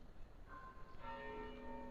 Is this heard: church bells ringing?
yes